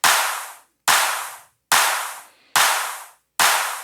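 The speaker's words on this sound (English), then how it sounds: "and then we have our clap" Five evenly spaced, crisp electronic clap hits from a dubstep track sample, each a sharp bright attack with a short decaying tail, played alone in a steady rhythm.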